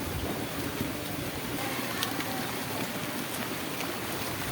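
Steady rain hisses evenly throughout, a dense constant wash of patter with no pauses and no voices.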